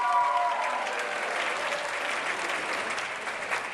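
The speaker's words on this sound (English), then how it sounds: "Let's give her a big round of applause." Wedding guests applaud the mother of the bride at a reception at Easton's Beach Rotunda, a steady, dense wash of clapping that fills the room and holds evenly throughout.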